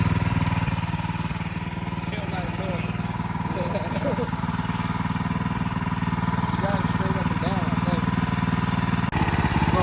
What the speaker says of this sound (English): We want it at a good idle. That's probably about 14 to 1500 RPM right there.